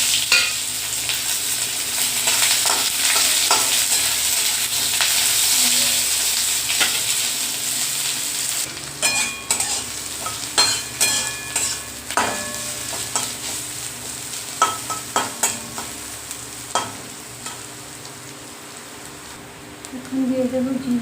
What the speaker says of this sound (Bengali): এখন দিয়ে দেবো পেঁয়াজ কুচি আর রসুন কুচি।